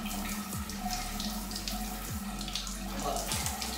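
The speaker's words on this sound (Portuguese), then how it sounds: "Ó, desliga o chuveiro." A running shower sprays steadily in a bathroom during hair washing, a continuous close hiss of water with faint low thumps underneath.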